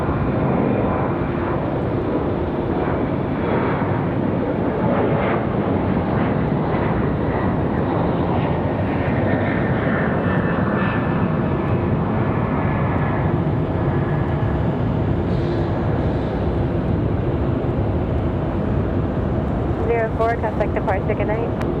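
A passenger airliner, an Aer Lingus arrival, comes in at Raleigh-Durham International Airport with a steady broadband engine roar that holds loud and unbroken throughout. Faint radio chatter sits beneath it.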